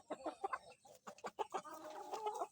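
Kelso rooster with white legs and a straight comb, about five months old, clucking in a series of short, close calls with a few drawn-out notes near the end, alone without talk.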